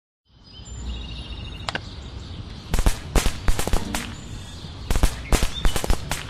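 Fireworks go off in the Scary Teacher 3D video game, a series of sharp crackling pops and bangs in irregular clusters over a constant hissing background.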